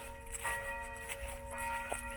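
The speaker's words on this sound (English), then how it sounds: "a little bit here with the nice bells going off. Must be noon." Church bells ring at noon in a steady, resonant ringing, with tones layered over continuous outdoor background noise and moderately distant.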